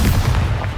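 A short, heavy blast from the Exposo blasting spell in Hogwarts Legacy, a loud, close low boom that rumbles for under a second.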